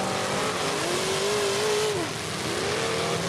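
A demolition derby car revs hard, its engine pitch rising and falling as the tires spin in soft dirt. The roar is loud and sustained throughout.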